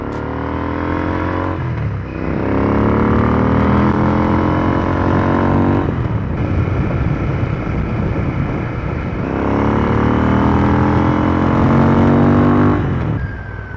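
A motorcycle fitted with a DNA air filter and Fuel X engine tuning runs on a test ride, its loud, close engine note rising through the gears in repeated sweeping surges with no talking.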